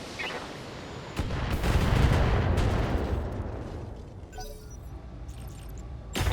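Mech weapons in the BattleTech video game fire a dense barrage of loud, rapid cannon and gunfire bursts that swell into a sustained roar, then trail off into scattered shots.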